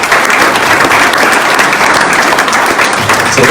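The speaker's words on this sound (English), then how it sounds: "I want to give him a round of applause as well." Dense, loud, continuous clapping from a crowd at a fintech accelerator event, steady throughout with no pauses.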